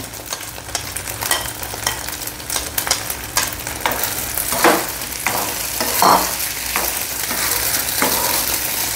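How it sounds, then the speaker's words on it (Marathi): Sago pearls lightly sautéed in ghee, a continuous crackling sizzle close by, broken by repeated scraping stir strokes that grow busier toward the end, with no voices. "हा साबुदाणा आपल्याला अगदी हलका परतून घ्यायचा आहे।"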